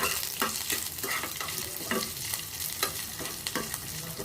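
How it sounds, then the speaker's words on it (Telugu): Cumin seeds and dried red chillies fry in a pan, a steady close sizzle broken by repeated scraping stirs every half second or so, with no voices. "జీలకర్ర, ఎండుమిర్చి ఇట్లా అన్నీ వేసేసాను. వేయించుకుంటున్నాను."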